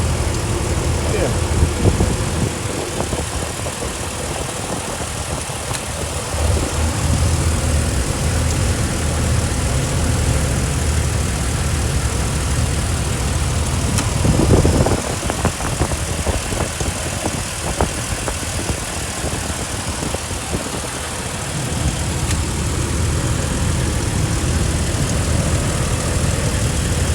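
A Jeep Wrangler Unlimited Rubicon idles with a steady low rumble throughout, the engine droning close by while a person talks over it and occasional handling noises break in midway.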